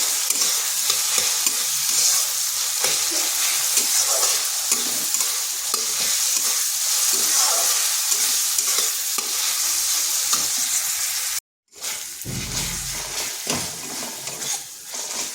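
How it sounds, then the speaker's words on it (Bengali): Tomatoes with salt sizzling in a frying pan while a utensil stirs and scrapes steadily, loud and close; a brief silent cut near the end, then the frying resumes. "দিয়ে দিচ্ছি পরিমাণ মতো লবণ তাতে টমেটোটা তাড়াতাড়ি গলে যাবে"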